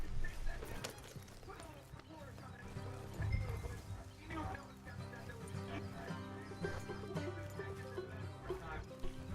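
A horse's hooves clip-clop at a slow walk through camp in Red Dead Redemption 2, a steady close rhythm mixed with game ambience and music.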